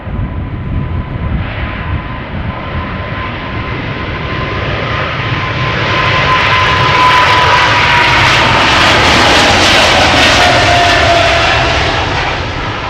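Airliner jet engines roar at Schiphol Airport, loud and sustained, building from a steady rumble to a louder, brighter peak over several seconds as the aircraft passes close by, with no talk.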